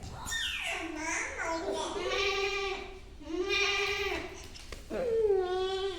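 A child imitates a goat's bleat with wavering, drawn-out vocal cries, three loud bleating calls across the clip, close and fairly steady in volume.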